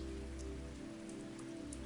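Steady, close rain patters on a surface as a dense, even hiss with scattered droplet ticks, alone with no voices.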